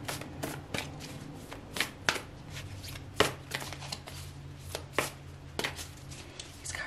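Tarot cards are shuffled by hand close up, a series of sharp riffling snaps and soft slaps in an irregular rhythm over a quiet room, with no talking.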